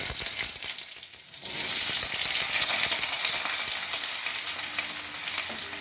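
Potatoes hit hot oil in a wok with a sudden loud sizzle that swells and then holds as a steady, crackling fry, close up with no voices.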